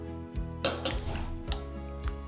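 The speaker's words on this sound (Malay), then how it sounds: "Kacau semua bagi rata." A spoon stirring rice-and-corn ingredients in a metal pot, clinking and scraping against the sides in an irregular rhythm of close, moderately loud knocks and rattles, with no voices.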